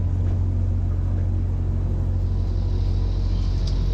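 A motor cruiser pushes through thin ice at about five knots, its engine a constant loud low rumble with faint crackling above it and no talk.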